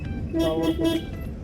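A short tonal car horn toot sounds twice in quick succession over a low engine rumble, close and fairly loud, from a car started after sitting unused for six months.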